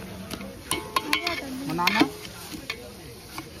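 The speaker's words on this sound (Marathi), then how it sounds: "त्याला मस्त तर फ्राय करायचं आपल्याला" Ginger frying in a pan, a crackling sizzle broken by clinks and scrapes of a stirring utensil against the metal, close by, with faint voices in the background.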